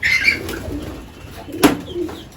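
Pigeons cooing near feed set out at a lovebird colony, with soft low coos, one sharp flutter or scuffle in the middle, and faint chirps around, with no voices.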